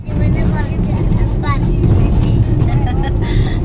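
Steady road and engine rumble inside a moving vehicle in heavy traffic near Alappuzha. Voices talk over the constant drone.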